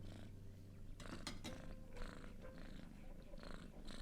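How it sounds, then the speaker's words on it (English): Cat purring in a video game: a steady, soft rumbling purr that runs throughout, close and even in level, with no voices over it. "I think the purring is less distracting"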